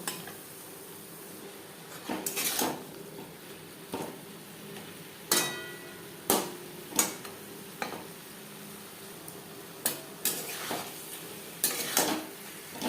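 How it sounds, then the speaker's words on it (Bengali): Marinated butter chicken cooking over a high to medium flame, with a faint sizzle beneath a series of sharp metal spoon scrapes and clanks against the pan every second or two. "হাই টু মিডিয়াম ফ্লেমে চার পাঁচ মিনিট রান্না করব"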